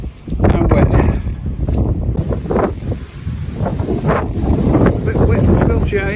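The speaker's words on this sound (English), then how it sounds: "It's too blooming windy for videos today." Strong, gusty wind buffets the microphone in a steady roar out on wet open fields, with a voice speaking faintly underneath.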